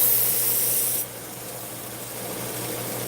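A knife's primary grind being sharpened into a bevel on a dull blade, a steady close abrasive rasping that drops in pitch and level after a second, with no talk.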